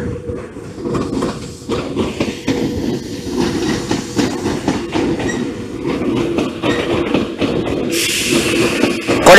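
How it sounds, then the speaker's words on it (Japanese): A Tokyu main-line train rumbles past close by a Tokyo Metro depot at Saginuma, Kanagawa, with steady clickety-clack of wheels over rail joints, loud and continuous, with a brief hiss near the end. "本線の列車が来ましたよ"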